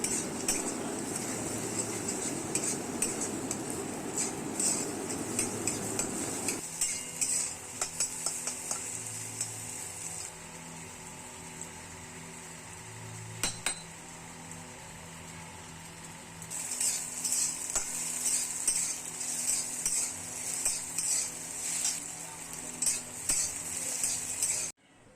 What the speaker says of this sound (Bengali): আর এখানে ডিম দিয়ে ভালো করে ডিমটা ভেজে নেব।